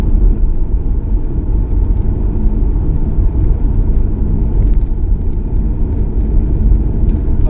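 A plug-in hybrid car drives at 50 km/h, heard from inside as a steady loud low road rumble and tyre noise with no clear engine note, alone without talk.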